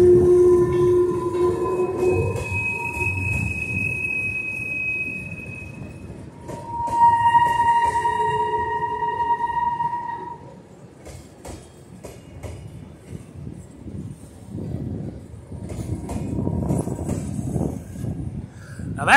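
A freight train loaded with log chips runs on an Oregon coast railroad. Its whistle sounds in long, loud blasts of two and three tones, followed by the steady rumble and clatter of the cars rolling past nearby.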